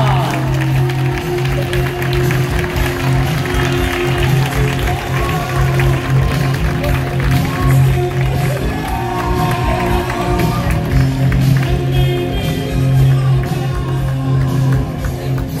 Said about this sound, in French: Applaudissez-la comme il se doit.